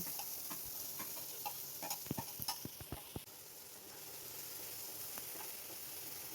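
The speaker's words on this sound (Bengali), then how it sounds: "একই তেলে আরও অল্প তেল দিলাম। দুটো মিডিয়াম সাইজের পেঁয়াজ কুচনো দিয়ে দিলাম।" Two medium chopped onions dropped into a little extra oil reused in the pan, giving a faint, steady sizzle and a brief cluster of crisp ticks and pops near the middle.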